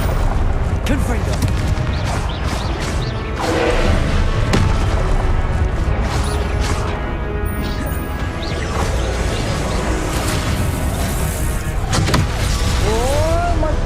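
Confringo blasting spell explosions in Hogwarts Legacy gameplay, dense repeated booms and crashes over a loud continuous game soundscape with music and effects, while a voice talks over them.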